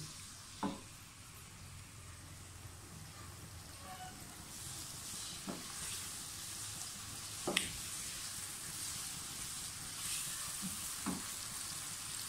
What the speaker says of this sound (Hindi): लेकिन मैं थोड़ा सा फ्राई करूँगी टमाटरों को घी में